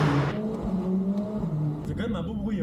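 A Mercedes-AMG A45 S engine roars with a steady, loud rev, while someone talks over it near the end.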